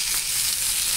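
Chicken and thick-cut mushroom pieces fry in a pan for a Colombian dish, giving a loud, close, continuous sizzle with no pauses or talk.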